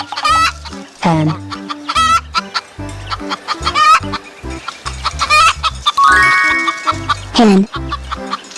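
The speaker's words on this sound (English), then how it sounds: "hen," A hen from a cartoon farm-animal sound compilation clucks in repeated short, close bursts over light background music.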